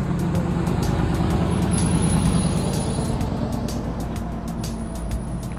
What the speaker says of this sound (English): They have cars driving in and out of here all the time, even trucks.